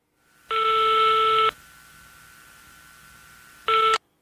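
A telephone call's ringing tone sounds on the line as a long electronic burst of about a second, then a quiet pause with faint line hiss, then a second shorter burst.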